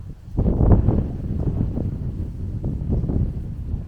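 Strong wind gusting outdoors at a Moroccan desert oasis, a steady low roar buffeting the microphone with surges and lulls throughout, no voices.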